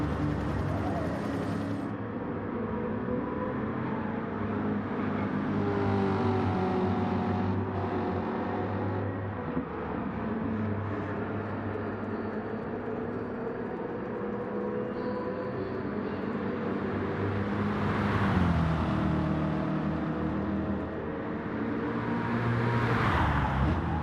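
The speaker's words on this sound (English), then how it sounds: "this car's handling is great." Rear-wheel drive American car driving in Gran Turismo 7, its engine droning steadily with gear changes and rising revs over a long stretch, while a person talks over the game sound.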